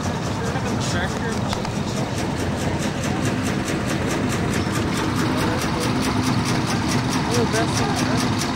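A steady, loud tractor engine chugs with a regular pulsing rhythm throughout at a ploughing event in Cooley, Ireland, close by, with voices faintly mixed in.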